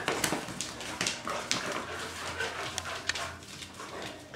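Standard poodle puppies whimper and yip in short, soft bursts close by, with a steady low hum underneath and no talking.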